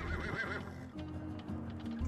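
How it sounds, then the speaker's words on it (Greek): A horse in an animated film neighs with a long wavering whinny, followed by snorting and clip-clopping hooves, all clear and close. "μιλάς σε ένα άλογο"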